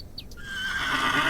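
A well-kept mare whinnies in one rising, shrill neigh that swells and holds steady, loud and close, with no talking.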